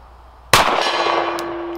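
A pistol round from a Sig P365 X Macro strikes a steel target, giving one sharp metallic clang that rings on with a sustained tone, close and alone.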